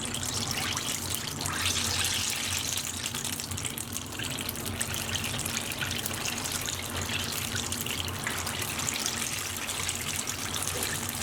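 Chicken money bags deep frying in a fryer basket in hot oil, a continuous dense bubbling hiss that stays steady and close for the whole stretch, with no voices.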